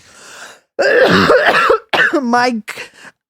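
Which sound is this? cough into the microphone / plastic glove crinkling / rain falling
cough into the microphone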